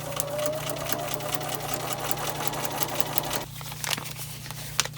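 Sewing machine stitching seams on a paper-pieced quilt block, a fast rhythmic needle clatter over a steady motor hum, close and moderate in volume, briefly pausing near the end.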